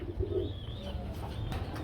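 A male Lotan pigeon coos in a faint, low, throaty murmur at a pigeon sale. Soft ambient noise surrounds it and no one speaks.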